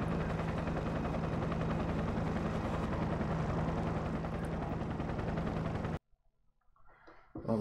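Dense, steady helicopter rotor roar with rapid gunfire mixed in, loud and continuous in the Enter the Matrix game on PS2, cutting off abruptly to near silence with faint sounds at the end.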